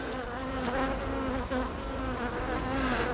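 Honeybees of a Russian colony swarm over the combs during a hive inspection, a dense continuous buzz close by with wavering pitch, steady and loud throughout with no voices.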